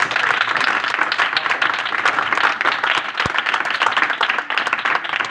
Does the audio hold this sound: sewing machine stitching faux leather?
no